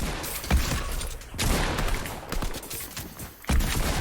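Gunfire in a shooter video game crackles in loud, rapid bursts with heavy thumps at the start and near the end, filling the clip with no speech.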